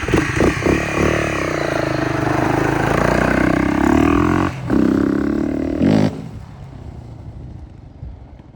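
A finished Honda CRF250L trike's engine runs loud and close with a steady roar and throttle swells, cuts briefly near the five-second mark, roars again, then drops to a low idle.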